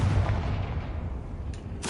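A Confringo fire spell explodes in Hogwarts Legacy, a deep booming burst that rumbles on and fades, then a sharp crackling hit near the end, loud and up close without talk.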